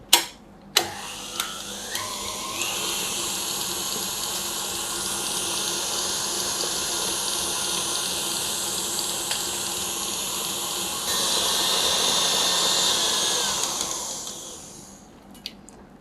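Electric mixer beating buttercream at medium-high speed, a few clicks and knocks at the start, then a steady whirring hum that grows slightly louder midway and fades as it winds down, close with no talk.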